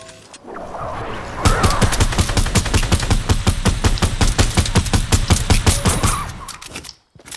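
An assault rifle in a shooter video game fires a long, fast automatic burst of loud, evenly spaced shots lasting several seconds, then cuts off abruptly.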